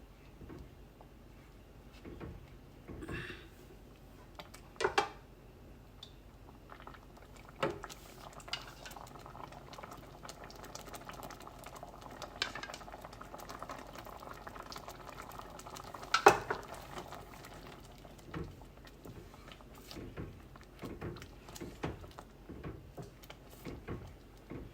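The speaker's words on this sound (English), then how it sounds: "And I give this a good stir." A spoon stirs a thick cake batter in a bowl for a pineapple inside-out cake. The stirring comes through as soft, quiet scraping and squelching with occasional clinks against the bowl, close up and with no talking.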